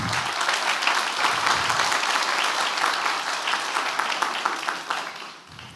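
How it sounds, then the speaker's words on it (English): Steady, dense audience applause fills a conference talk hall, sustained and fairly loud throughout before tapering slightly at the end. "So big applause to the DACCOM for that."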